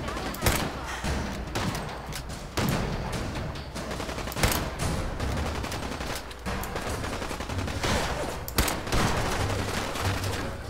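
Gunfire fills a Fallout 4 firefight, with repeated sharp shots and bursts of rapid fire spread across the clip, some louder bangs standing out, over a busy noisy background.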